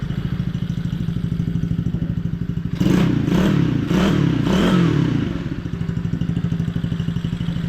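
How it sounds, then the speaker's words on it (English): A small mini dirt bike with a little 110 engine runs nearby, idling with a rapid even putter, then revving louder for a few seconds in pulsing bursts before settling back to idle. "Yeah, one little 110 engine."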